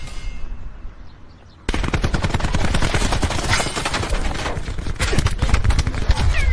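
Sustained automatic gunfire in a video game: after a brief quieter lead-in, a loud, dense stream of rapid shots runs continuously to the end, close and unbroken.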